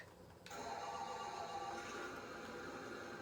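A deep, steady diesel truck engine rumble starts abruptly and keeps running evenly at close range, with no voices over it.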